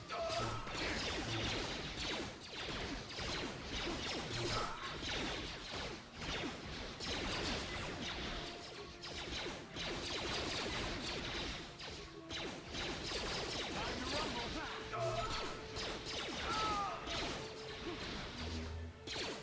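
Lightsaber combat in Star Wars: Knights of the Old Republic, with blaster bolts deflected amid repeated crashing hits, swooshes and whacks, loud and busy throughout, layered over game music and sound effects.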